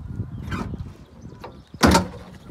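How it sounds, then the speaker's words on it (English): The tailgate of a 2016 Daihatsu Hijet Deck Van folds down with a short mechanical clunk and creak, followed by a louder metallic thud as it drops open, close and alone. "Tailgate folds down"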